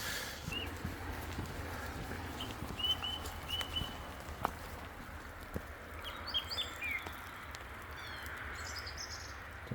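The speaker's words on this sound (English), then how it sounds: "Can you hear the birds?" Scattered bird chirps and short calls over a steady outdoor background on the Camino Francés walking route to Santiago, with occasional faint knocks and thumps.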